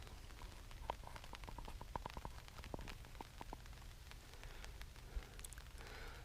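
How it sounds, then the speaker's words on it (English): Light drizzle falling outdoors on the Isle of Bute in Scotland during a morning on a hiking and wild camping trip, heard as scattered soft taps and patters over a steady low background hiss. "Slight drizzles came about just in the past 10 minutes, which was predicted."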